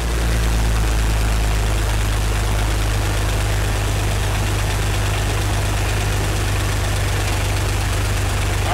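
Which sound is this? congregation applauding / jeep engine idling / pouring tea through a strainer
jeep engine idling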